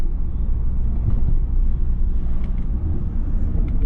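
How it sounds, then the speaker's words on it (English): Audi TT RS five-cylinder exhaust fitted with 034 mid pipes and the stock exhaust, a steady deep low rumble at idle, continuous and fairly loud, with no talking. "this is the sound with the mid pipes and stock exhaust"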